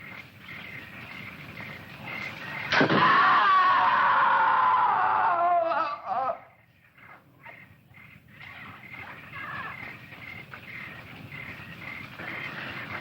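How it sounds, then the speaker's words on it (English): A loud, drawn-out scream in a horror film, bursting in suddenly, holding for about three seconds, then breaking off into quieter outdoor ambience. "I'm sure I heard a scream."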